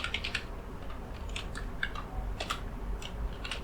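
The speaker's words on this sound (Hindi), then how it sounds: "और इसके अंदर हम कुछ टाइप करेंगे" Keys clatter on a computer keyboard while someone types Python if-else code: a quiet, steady run of light clicks at close range, with no voices.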